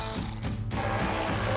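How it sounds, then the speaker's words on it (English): A hand ratchet with a 7mm socket clicks steadily as it tightens the headlight mounting screws on a 2016-2018 Camaro, a close, fast ratcheting rattle with no talk. "Grab our ratchet and 7mm socket, tighten those down."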